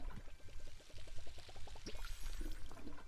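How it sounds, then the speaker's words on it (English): Water trickles and splashes in short rhythmic spurts as a tree gets watered in the farming game Palia, quiet and close, with a few soft clicks and chimes after. "Oh, forgot to water the tree."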